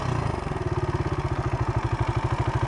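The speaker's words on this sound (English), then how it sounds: "It's my brand new motocross bike!" A motocross bike engine on trails in Thailand putters close by in a fast, even rhythmic chug, holding a steady idle-like beat throughout.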